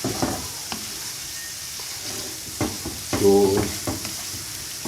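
Mutton karahi masala cooking in a pan, Shinwari style, produces a continuous near sizzle with stirring scrapes and a louder spattering swell midway, and a voice briefly speaks a single word.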